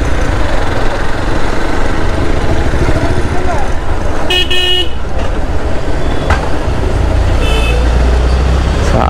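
Hero Xpulse 200 motorcycle engine running on a road after a downshift, a continuous loud rumble under heavy wind noise, with a short horn toot from traffic midway.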